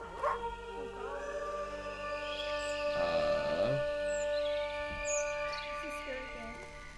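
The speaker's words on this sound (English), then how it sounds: "There's a dog." Dog in the Maid of Sker video game giving yips and whimpering barks over a tonal musical backdrop, with a few louder bursts and people talking throughout.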